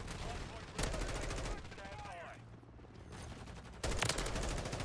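M4 rifle fire through a wall in the video game Modern Warfare 3: loud bursts of rapid automatic gunfire, with sharp cracks near the start, middle and end over continuous game noise.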